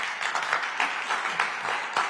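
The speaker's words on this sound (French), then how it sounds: "Applaudissements des collègues." Colleagues applauding after a prize is handed out at a university thesis-presentation competition, a moderate patter of clapping hands with a fairly even rhythm, heard from a short distance.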